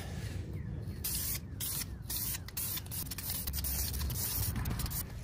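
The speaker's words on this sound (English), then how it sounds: "I'm gonna practice on the inside though, just so I can see how this can sprays." Spray paint can hissing steadily onto a Porsche Boxster 986 wheel, a continuous close-up spray held for several seconds with brief breaks in the flow and no voices.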